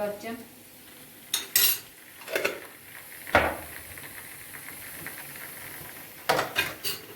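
A spoon scrapes and clinks against a pan as pepper paste is stirred into frying onions, several distinct metallic knocks spread out over a soft steady sizzle.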